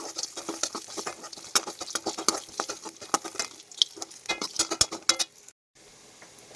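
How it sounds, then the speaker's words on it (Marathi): Dry fruits crackle and spatter as they fry in ghee for gajar halwa, a dense run of close, sharp popping and sizzling ticks that stops abruptly near the end. "ड्रायफ्रूट्स पण मी थोडेसे फ्राय करून घेणार आहे आता."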